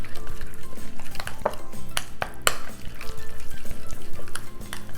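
A spoon scrapes and clinks steadily against a bowl while stirring softened organic butter with a tablespoon of olive oil into a creamy spread for garlic bread, in a rhythmic, close-up churning with a few sharper knocks.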